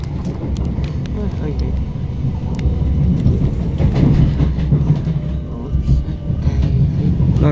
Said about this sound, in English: A bit rocky, we're going over lots of points.